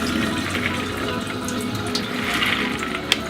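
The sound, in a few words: rinsing mung bean sprouts in a strainer under running water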